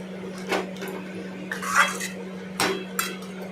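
A spoon stirs ghugni with sugar in a metal pan, making a few sharp scrapes and clinks spaced irregularly, close and fairly loud over a low steady hum.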